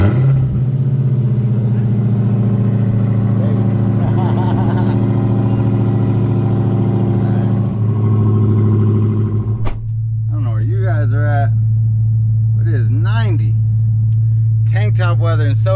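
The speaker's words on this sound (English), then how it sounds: "So I almost forgot that somebody asked me for a cold start." A Dodge Challenger Hellcat SuperStock V8 cold-starts and settles into a loud, deep, steady idle rumble close by, and someone talks over the engine for the later part.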